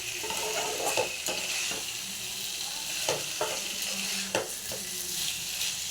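Potatoes for doi aloo dum sautéing in a pan, a steady close sizzle broken by repeated scraping stirs at irregular intervals, with no voices.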